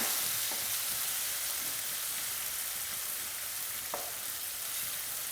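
Onion frying in oil with toasted cumin seeds for aloo matar curry, a soft, even crackling hiss with a few faint taps of stirring.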